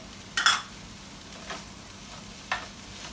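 Chopped tomatoes dropped into a hot pan for stuffed bell peppers, a brief loud sizzle burst followed by two softer sizzles and a steady frying hiss underneath, close and without talking.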